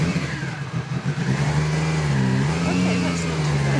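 A street-legal Lancia Delta S4 Group B rally car, turbocharged and supercharged, runs with a steady engine drone that swells slightly and rises in pitch as it revs, while people talk over it.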